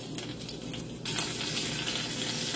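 Curry leaves hit hot oil for a Jaffna-style squid curry, giving a steady hiss that jumps into a louder, fuller sizzle about a second in and then holds.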